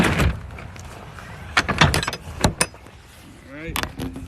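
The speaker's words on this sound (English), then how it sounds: "Closing up the truck." Truck being closed up on a rainy night during a roadside tire change: a few sharp slams and clunks of doors shutting, with scattered metallic rattles and a brief voice near the end.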